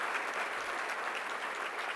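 Dense, steady applause from a conference audience for a panel, a continuous wash of many hands clapping throughout.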